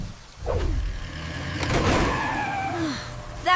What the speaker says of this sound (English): traction is low on this wet road. Look out! Tree down! Engaging ABS. Braking gently.